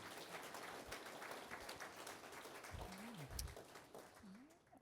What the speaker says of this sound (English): just a round of applause for a wonderful evening